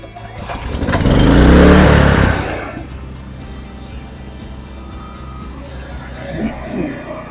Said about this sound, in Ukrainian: генератор ми завели, працює він чудесно